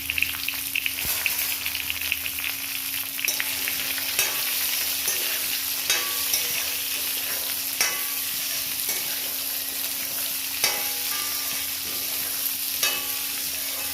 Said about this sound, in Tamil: ஒரு ரெண்டு நிமிஷம் வதங்கட்டும் மாங்காய் நல்லா இந்த எண்ணெயில்